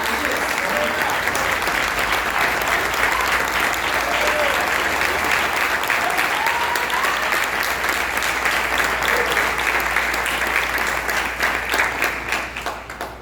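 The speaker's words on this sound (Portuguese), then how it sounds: "Pode dar palmas a Deus." Sustained, dense applause from a church congregation fills the space for about thirteen seconds, loud and steady with a few voices faintly audible underneath before it begins to fade at the end.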